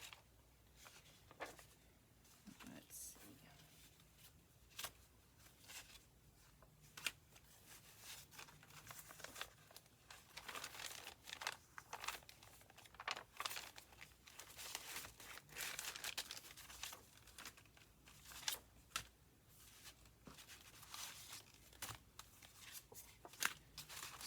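Paper scraps, some of them coffee-stained, rustle and shuffle as hands dig through a pile, a steady run of soft crinkles and flicks close by with no talking.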